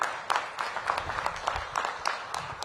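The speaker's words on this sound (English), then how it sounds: "We'll give Lindsay a round of applause." An audience at a mayoral press announcement gives a brief round of applause, moderately faint, with scattered claps in a loose, uneven rhythm.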